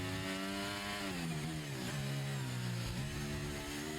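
A Red Bull Formula 1 car's engine screams from the onboard cockpit during a Brazilian race, its pitch dropping on downshifts and climbing again through the corners, loud and continuous.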